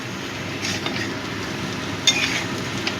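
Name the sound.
ginger cumin paste frying in pan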